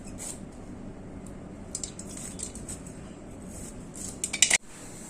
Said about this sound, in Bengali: আমি এখন করলা কেটে নিব, করলা ভাজি করব।